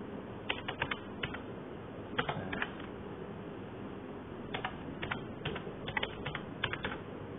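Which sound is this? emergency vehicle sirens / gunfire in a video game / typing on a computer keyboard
typing on a computer keyboard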